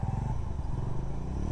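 A Bajaj Dominar motorcycle engine revs hard and steadily near the rev limiter, a loud close rumbling drone with no talk over it.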